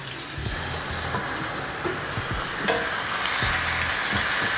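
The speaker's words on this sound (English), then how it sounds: "Sizzling just a bit." Chicken thighs sizzle and crackle steadily in a hot pan, a continuous frying hiss with occasional soft pops and clinks close by, growing slightly louder toward the end.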